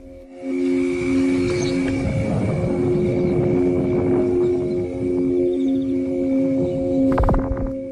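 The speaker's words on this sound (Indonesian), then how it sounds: "Jika berbunyi, suara yang dihasilkan dari Aeolian harp ini mengandung unsur misteri" An Aeolian harp sounded by the wind gives off a steady, eerie drone of several overlapping sustained tones over a soft rumble, holding an even loudness throughout, with a brief crackling burst near the end.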